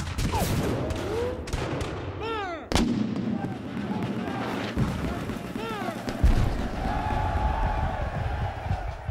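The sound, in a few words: Civil War reenactment cannon artillery fire at Shiloh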